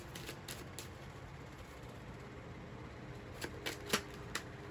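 An oracle card deck being shuffled, soft papery riffles and light taps close by, fairly quiet over a faint room hiss, ending in a few sharper snaps of cards.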